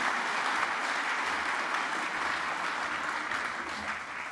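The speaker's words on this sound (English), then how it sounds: "Give him one more round of applause, ladies and gentlemen, please." An audience at a talk gives a round of applause, dense sustained clapping from a crowd at fairly close range, steady and loud for the whole stretch.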